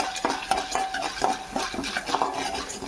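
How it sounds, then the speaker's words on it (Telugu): Curry leaves and spices being fried and stirred in a pan with chili powder, giving close scraping and clinking of a spoon against the metal pan in repeated strokes over a soft background sizzle. "మంచి కలర్ వచ్చేదాకా మనం ఫ్రై చేసుకుందాం."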